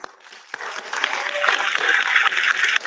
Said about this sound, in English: please join me in giving our moderator and panelists a warm round of applause